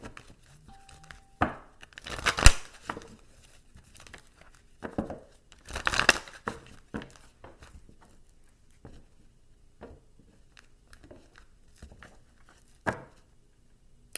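Tarot cards being shuffled, heard as soft crinkling riffles and taps in a few short bursts, the clearest clusters early on, separated by quiet gaps.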